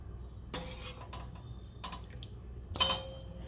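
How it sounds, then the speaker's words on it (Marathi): Cooked chicken is lifted out of a pot of thin Maharashtrian alani chicken soup. A metal spoon clinks against the pot three times, with light drips and quiet liquid sounds in between. "आता मी ह्या रशामधलं, ह्या आळणी सूपमधलं चिकन काढून घेते"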